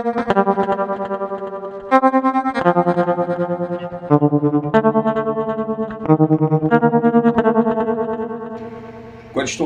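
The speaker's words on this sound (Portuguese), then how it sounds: "Com a distorção, tem hora que ele entra com a distorção." Electric guitar run through a Digitech RP7 multi-effects unit with distortion and a touch of delay, playing loud, sustained distorted chords and riffs in steady phrases, alone without talk.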